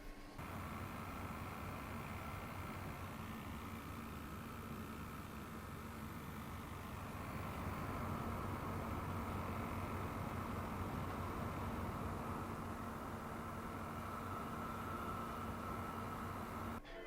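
A Cooler Master NCORE 100 Max mini ITX PC under load produces a steady, even whoosh of fan noise with a faint low hum, constant and fairly close, with no talking.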